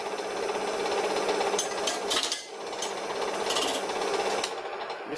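A worn gouge digs into spinning wood on a homemade wooden lathe, a loud, continuous rough grinding chatter with harsh bursts as chunks tear off, steady throughout with a brief dip midway.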